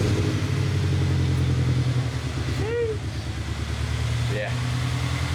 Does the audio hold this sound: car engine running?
yes